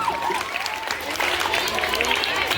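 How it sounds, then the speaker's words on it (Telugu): Students at a Sankranti rangoli competition in a government high school applaud prize winners, a dense crowd clapping close by, mixed with voices speaking over it. "First prize Praneeth and Nandishwar, clap."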